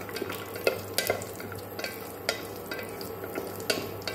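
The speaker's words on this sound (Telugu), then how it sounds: "జీడిపప్పు బాగా వేగించుకోవాలి।" Cashew nuts fry in hot oil in a pan for green peas pulao, a soft steady sizzle broken by sharp clinks and scrapes of a spoon stirring against the pan at close range.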